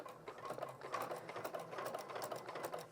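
Sewing machine stitching a polo placket, a close, steady rapid rattling of the needle with a quiet, continuous mechanical rhythm.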